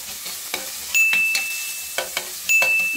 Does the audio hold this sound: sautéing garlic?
yes